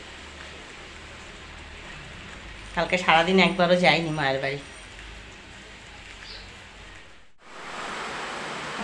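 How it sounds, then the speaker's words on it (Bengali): Steady rain falls as a broad, even wash of noise that persists throughout, with someone speaking over it briefly and a short cut before the rain returns slightly louder. "আজকে বৃষ্টি কেমন ভেলকি দেখাচ্ছে"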